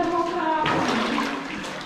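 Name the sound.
flowing water of underground river in cave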